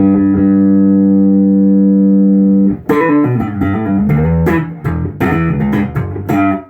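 Horn voice on a Marlboro 1500 keyboard with treble boost turned all the way up, one long held note, then a brief gap and a loud run of shifting melodic notes, no talk.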